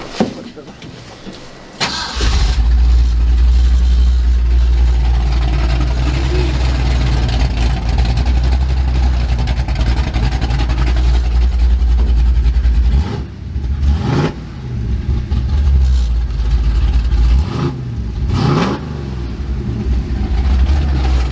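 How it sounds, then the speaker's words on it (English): A 1967 Ford F250 drag truck engine cranks and starts, then settles into a loud, deep steady idle with a couple of brief revs; a person talks over it at times. "Man, I love the sound of this truck."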